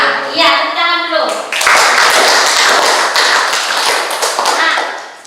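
Classroom of students clapping their hands together, a dense burst of rapid claps that starts after a brief moment of sustained tone and carries on loudly throughout.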